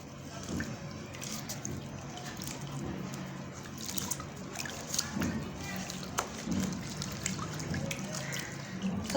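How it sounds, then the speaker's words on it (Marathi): Wheat starch paste is washed by hand in a basin of water in a home kitchen, with steady sloshing and dripping, while a voice talks over the splashes throughout. "ह्या दुसऱ्या टोपल्यामधल्या पाण्यामध्ये आता आपण हे चीक धुवून घेऊ"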